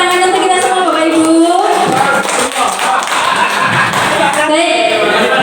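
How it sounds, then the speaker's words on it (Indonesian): An audience of teachers at a positive-culture workshop claps together, a loud continuous patter of many hands with a brief dip midway, while someone speaks over it. "tepuk tangan untuk kita semua Bapak Ibu."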